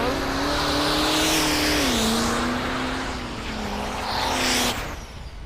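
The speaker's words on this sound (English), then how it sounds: "Hard on the throttle." Drag racing car at the NHRDA World Finals in Ennis, Texas, roaring loudly down the track under full throttle with a sustained high engine note that shifts pitch as it gears up, heard close with crowd ambience.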